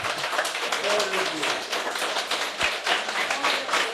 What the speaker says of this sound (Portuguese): Então dá uma salva de palmas para Jesus Cristo.